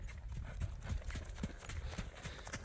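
Young horse loping in a focus circle during training, with steady three-beat hoofbeats thudding on soft ground, close and fairly quiet, in a continuous rolling rhythm.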